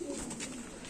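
Pigeon cooing, from a bird kept among wheat-beaked black-green pigeons, close and soft, a low steady coo running for about a second over faint background noise.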